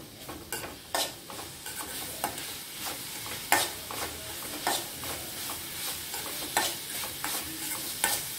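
A spoon scrapes and stirs vegetables seasoned with turmeric powder as they sauté in a pan, in repeated uneven strokes over a soft, continuous sizzle, close by and with no talking.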